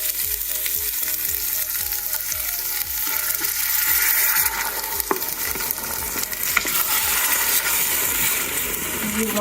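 Coconut cream sizzles and bubbles steadily in a hot Instant Pot while a spoon stirs it in repeated scraping strokes, a close, continuous frying hiss for chicken curry noodle soup.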